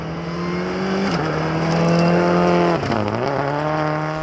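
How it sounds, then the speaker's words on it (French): Rally car racing flat out on a gravel special stage of the Rallye Défi Petite Nation, its loud engine howling close with sustained revs, dropping briefly on gear shifts before climbing again. "De retour dans les spéciales, Mailloux n'a pas beaucoup ralenti, même pas du tout"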